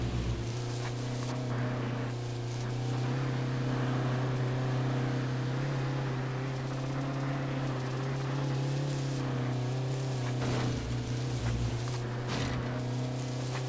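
Steady droning engine of a car driving in the battle royale game H1Z1, a strong low hum with stable harmonic tones and some whooshing, loud and continuous throughout with no talk.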